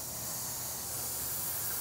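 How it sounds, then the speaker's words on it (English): A short, steady, loud hiss of polished aluminum metallic lacquer spray paint from an aerosol can, sounding continuous and close without a break. "when we spray just a little bit of this on,"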